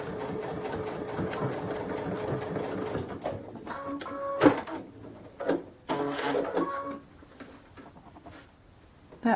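A sewing machine stitches a hanging kitchen towel, starting with a steady close whirring run, then breaking into short start-stop bursts of stitching with clicks and pauses.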